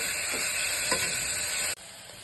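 Onions cooking with rock salt in a pan give a dense, steady hiss, with a couple of faint stirring scrapes, before the sizzle suddenly drops to a quieter level near the end.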